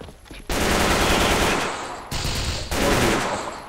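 Sustained bursts of rapid automatic gunfire from a SCAR-L rifle in the game KAVA, loud and dense, with a brief pause between two long volleys, in a game-like mix.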